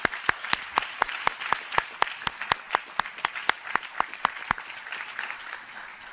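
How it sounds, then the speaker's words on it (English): Audience applause at an International Youth Day event: a steady run of sharp, fairly close hand claps from a modest crowd, continuous for several seconds and slowly thinning toward the end, with no talking. "we can give them a round of applause"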